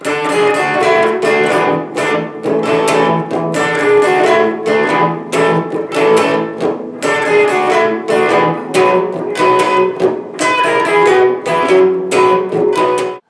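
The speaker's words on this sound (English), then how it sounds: "so the whole thing with the supporting notes sounds like," An electric guitar plays the Grateful Dead's Jack Straw melody with supporting notes, a continuous run of picked notes and chords in steady rhythm, loud and close, with no voices.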